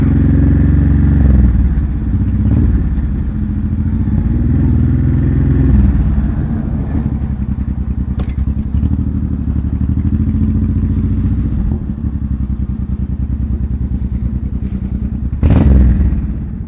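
Victory Octane motorcycle engine on a demo group ride, a loud, steady close-up roar with shifting revs, brief clatter and a thump near the end.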